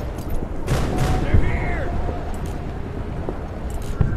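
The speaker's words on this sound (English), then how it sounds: "They just started shooting everywhere." Gunfire fills a Door Kickers 2 firefight on a Trench Warfare community map: dense, overlapping bursts of shots with sharp booming transients over a constant rumbling din, loud and continuous throughout.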